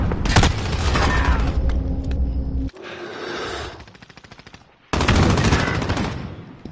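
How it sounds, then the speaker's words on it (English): Loud gunfire in a search and destroy video game match, heavy sustained blasts in two long bursts separated by a brief quieter gap, close and dominant with almost no talk. "Bro, you're using a shotgun, bro!"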